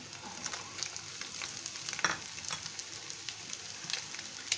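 Egg with chopped carrot and tomato sizzles steadily in a hot pan, with occasional scraping stirs and crackles throughout.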